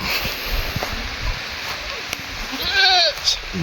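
A goat bleats a couple of times near the end inside a vehicle on a rough mountain road, wavering cries over steady rain or road noise with some background rumble.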